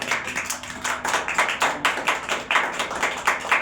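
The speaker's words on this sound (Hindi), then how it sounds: "आज उसके लहू के लिए जोरदार तालियां बजाएं।" A church congregation claps in rhythm during a sermon, with regular, evenly spaced beats of many hands carrying along at a moderate, lively pace.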